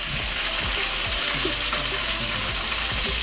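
Chicken pieces fry steadily in hot oil, a dense continuous sizzle with occasional soft pops and a few clinks or stirring scrapes, close and fairly loud, with no voices.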